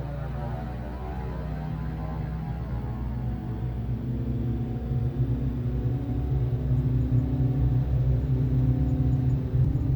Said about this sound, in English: Steering the aircraft on the ground is pretty good.